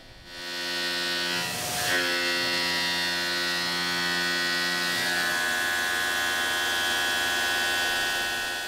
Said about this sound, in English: we're going to take care of roughing with the shear hog, running it at 5140 RPM